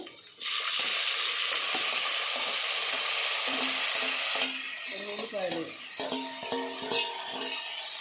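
Vegetables frying in a pan for stuffed eggplant curry hiss in a loud, steady sizzle, then quiet to a softer crackle while someone talks over the cooking.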